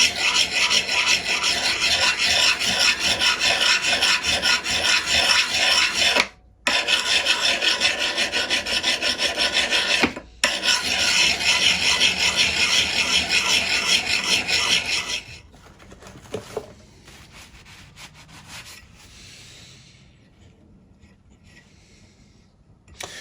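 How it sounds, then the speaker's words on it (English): A diamond file rasps steadily against the steel of a vintage axe head, loud continuous strokes with two brief pauses, then quieter scattered scraping toward the end. "Some of the diamond rubbing off of this file, so I can't speak to the longevity of this product, but it is certainly removing steel."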